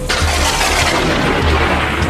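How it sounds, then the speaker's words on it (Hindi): A loud, sustained rumbling boom fills the whole clip, a heavy thunder crash with deep low-end roar and broadband noise, no voices. "अचानक बहुत जोर की बिजली कड़की।"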